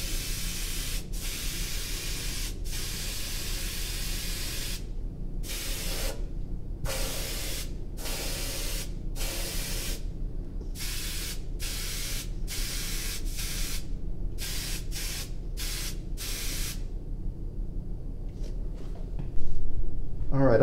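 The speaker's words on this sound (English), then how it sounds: "The most important thing to remember about spraying is to keep moving." A spray gun hisses steadily as copper blue glaze is sprayed onto pottery, with repeated short bursts and brief pauses in a rhythmic on-off pattern, close and fairly loud.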